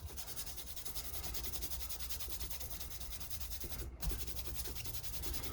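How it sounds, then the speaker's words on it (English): Micro mesh polishing pads rubbing along the frets of a Dimebag Darrell replica guitar, a soft, steady scratchy swishing in repeated strokes, faint and close, with one brief tap near the end. "worked our way up with all the micro mesh polishing pads"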